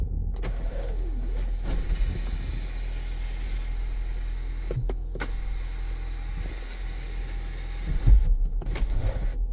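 The sunroof of a 2014 Toyota Harrier Advance Premium opens with a steady electric motor whir inside the car, accompanied by a few faint clicks over a low background hum.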